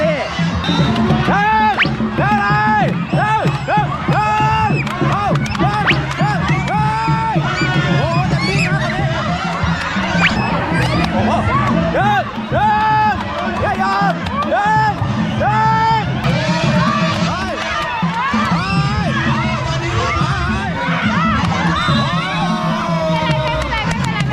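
A school colour sports day crowd cheering for the blue team, dense and continuous chanting and shouting from many young voices close by, with rhythmic cheer calls and babble filling the whole stretch.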